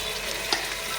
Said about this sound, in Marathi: चिकन टाकून परतून घेतलेलं आहे